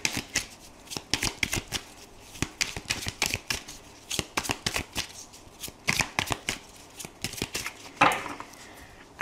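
A deck of tarot cards is shuffled by hand in quick rhythmic riffles, crisp and close, with a final riffle and flutter near the end and no talking.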